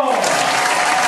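Studio audience applauding at a TV broadcast in Canoas, Rio Grande do Sul, for a sertanejo-style music duo; dense, steady clapping fills the whole short stretch at close range.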